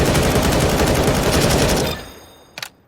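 A Galil rifle sprays a sustained automatic burst in CS:GO, loud rapid shots hammering for about two seconds before cutting off, followed by a short metallic clack.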